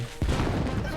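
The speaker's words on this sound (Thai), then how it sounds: "มีคนจะระเบิดทางแล้ว เออระเบิดหนึ่งอัน" A bomb explodes in the video game Ultimate Chicken Horse, a sudden loud burst with a crackling, rumbling tail lasting under a second.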